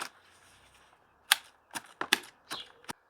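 Knife chopping kitchen waste for a Hotbin compost bin, several sharp separate cuts in quick succession after a quiet start, close and fairly loud.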